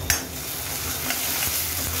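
Onions frying for rajma masala sizzle steadily in oil in a pan on low heat, a soft continuous crackle with a light clink of a spoon near the start.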